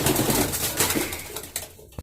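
Pigeons cooing in their loft after a hurricane, soft repeated throaty calls close by with a light rustle, cutting off abruptly at the end.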